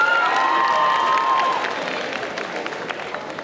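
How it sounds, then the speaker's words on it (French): An audience at a Sunday cosplay parade at Bordeaux Geekfest 2024 applauds and cheers, with loud clapping and shouts that slowly fade, and a brief whistle-like tone at the start. "Et on l'applaudit bien fort."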